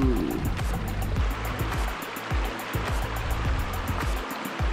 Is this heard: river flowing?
yes